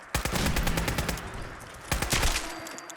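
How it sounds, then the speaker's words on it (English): Rapid Fallout 4 gunfire crackles in two close, loud automatic bursts, the second after a brief pause. "Opening fire."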